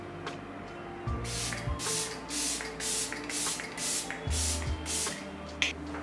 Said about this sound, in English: Spritzing.